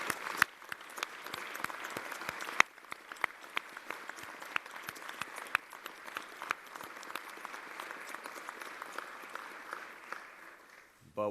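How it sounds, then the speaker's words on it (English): Applause from an audience at a celebration event, sustained clapping of many hands at moderate distance, fairly even throughout before fading near the end. "Let's give him a round of applause."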